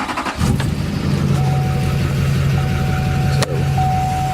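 A pickup truck with a spun harmonic balancer and suspected broken crankshaft cranks over and catches, then settles into a steady, loud idle with a constant low hum and a faint whine, interrupted briefly by a thump.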